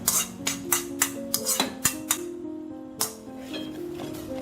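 A spoon stirring green gram curry in an uruli pot on a medium flame, giving a quick series of close metallic clinks against the pot, then a pause and a few more taps.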